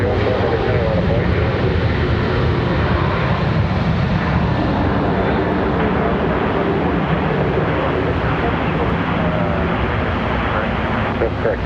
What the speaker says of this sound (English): American 2013, runway heading, runway 18 center, clear for takeoff